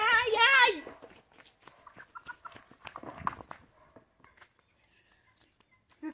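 Chickens and chicks on a farm: a brief loud rooster-like squawk at the start, then scattered faint cheeps and clucks with handling noises, fading to near silence.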